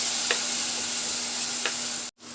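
Small onions sautéing in a pan for a tomato chutney give off a steady, close sizzle with a couple of faint stirring taps, ending in a sudden cut to near silence.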